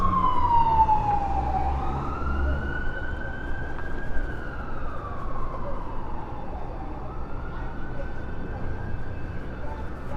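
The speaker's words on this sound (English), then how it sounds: "Oh, there goes the ambulance." An ambulance siren wails and sweeps up and down in pitch as it passes at Queen and Sherbourne in Toronto in winter, over a steady wash of street traffic noise.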